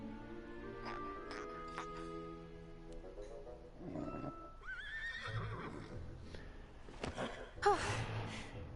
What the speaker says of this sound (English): looks like he found the horse